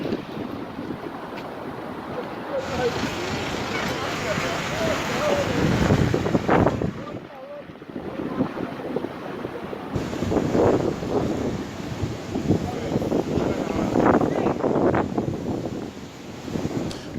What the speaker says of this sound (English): Oh, the wind is strong.